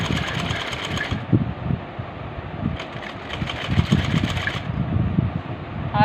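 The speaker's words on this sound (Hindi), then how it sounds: "दोनों बाजुओं की पाइपिंग के ऊपर एक सिलाई लगाएंगे" Sewing machine running a topstitch over the piping along both sleeves of an Angrakha-style girls' frock, with a steady rapid mechanical chatter that pauses briefly and starts again, loud and close.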